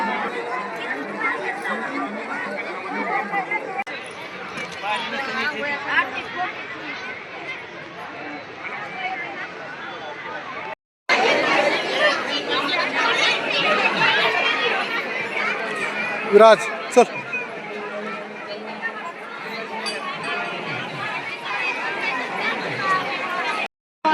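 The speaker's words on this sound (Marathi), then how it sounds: "किती लांबून लागलेलं आहे गर्दी आता इथे देवीला." A large crowd of people waiting in a long line at a temple of the goddess, a dense continuous babble of many voices with nearby talk, briefly cut off midway before resuming.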